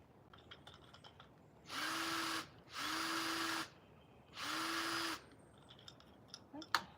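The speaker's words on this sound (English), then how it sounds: "Let's try this drill bit" Three bursts of a handheld power drill spinning a drill bit while a solar security camera is being installed in a yard, each run lasting about a second with short pauses between, close and loud, followed by a few faint clicks.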